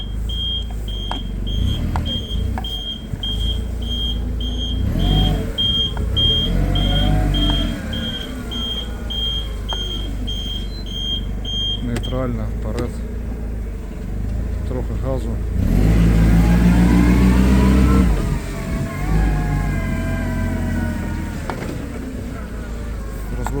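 A Cesab M315G gas-powered compact forklift with an automatic gearbox reverses, its engine humming steadily with a repeating high reverse-warning beep for about twelve seconds, then revving louder; someone talks over it.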